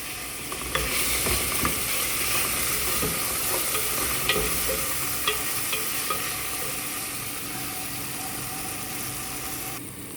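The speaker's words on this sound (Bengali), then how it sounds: "মশলাটা কষানো হয়ে গেছে" Spice masala, a hand-mixed Arabic blend with store-bought Bahraini masala, sizzling and frying steadily in a pan, a constant loud hiss with a few sharp clicks of stirring against the pan, no voices.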